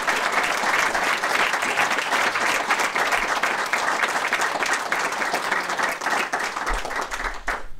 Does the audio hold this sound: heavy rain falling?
no